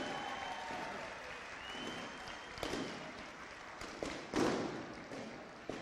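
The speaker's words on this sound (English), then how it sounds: "Could you all give Chip a great round of applause?" A convention audience applauds Chip Jewell, a sustained burst of many hands clapping from a large crowd, with a few louder thumps and swells toward the end, fairly loud and continuous.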